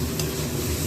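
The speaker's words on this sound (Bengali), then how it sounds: "ছোলা আর নারকেলটা একটু ভাজা ভাজা হয়ে যাবে, বেশি ভাজার দরকার নেই।" Chickpeas and grated coconut are lightly frying in a pan, giving a brief, dense, close sizzle with a faint stirring scrape and no voices.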